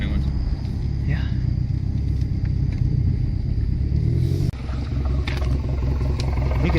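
A 2017 Camaro 2.0-litre turbo four-cylinder idles with a bad misfire from a dead cylinder, giving a loud, rough, uneven rumble close by that shifts partway through, while people talk over it.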